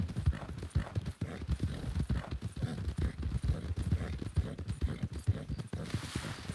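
Galloping horse hooves pound in a fast, steady clip-clop rhythm as the horse sprints across open fields near Blackwater in a Wild RP video game, loud and close throughout.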